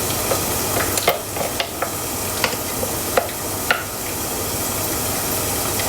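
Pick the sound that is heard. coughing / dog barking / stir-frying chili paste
stir-frying chili paste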